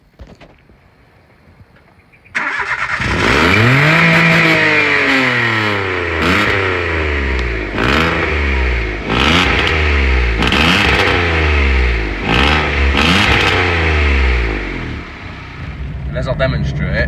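Small city car, a Citroen C1, Peugeot 107 or Toyota Aygo, fitted with a motorcycle exhaust, starts after a quiet moment and is revved repeatedly in loud, close, rising and falling bursts, with a raspy tone.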